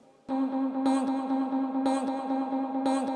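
A sustained vocal chop in Ableton repeats in short rhythmic accents, each hit trailing into quick triplet-timed echoes that fill the space behind it.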